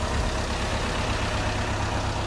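A Hyundai Mighty 3.5-ton dump truck, converted from a garbage truck, idles nearby with a steady, even low engine drone and no voices.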